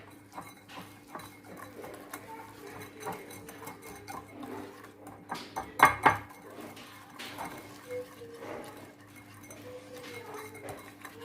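Spoon stirring a blackberry jelly mixture with added pectin in a pot, soft scraping and light clinks against the pan, quiet and close, with one brief louder clatter midway.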